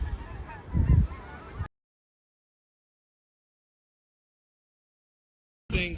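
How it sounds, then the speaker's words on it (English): Geese honk loudly near the start, a burst of calls during a lake-effect snowstorm, then silence until a brief return of sound at the very end. "If you can hear it in the background, the geese aren't even staying at this point."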